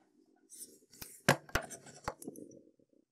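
Scissors snip the tail of sewing thread while making an amigurumi project, with a few sharp metallic clicks and snaps up close over faint handling noise.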